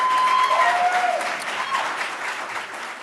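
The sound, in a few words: audience clapping and shouting at school board meeting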